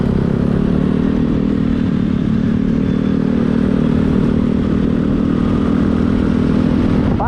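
A motorcycle rides along an open road with few cars, a steady loud engine drone and wind rumble throughout without a pause.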